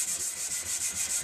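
A hand scuffing pad is rubbed back and forth over the painted tank of a Harley-Davidson XL883 Iron motorcycle, making a steady, even, rhythmic swishing scrape close by.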